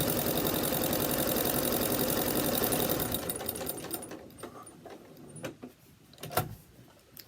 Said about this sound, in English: I am sewing with the liner part face down